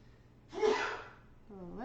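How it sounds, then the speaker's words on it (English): A person with allergies gives a single sharp sneeze with a quick intake of breath, followed by a voice starting to speak. "Bless you."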